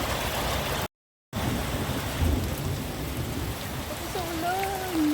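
Heavy downpour during a thunderstorm, a dense steady hiss of rain close by with a brief dropout and low rumbles underneath.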